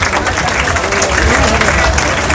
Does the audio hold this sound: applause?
yes